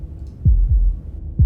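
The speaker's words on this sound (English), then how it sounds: "That was the sound of a heartbeat, followed by another." Two deep, heavy heartbeat thumps sound in Slay the Princess, each a low throbbing pulse close and loud, the second followed by the start of another after a short pause, with no talk.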